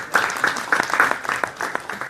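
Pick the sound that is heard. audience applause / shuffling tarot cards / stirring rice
audience applause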